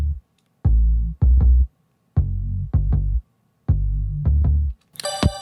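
A synthesizer bass line plays alone in short, punchy phrases with gaps between them, loud and up close, followed by a brief bright synth burst at the very end.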